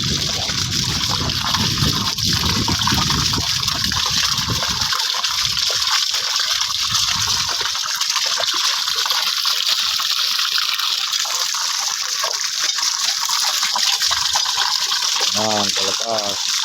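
Water gushes steadily from a newly drilled deep well in Guimba, Nueva Ecija, Philippines, a loud continuous rushing and splashing that fills the whole stretch, with voices talking faintly under it.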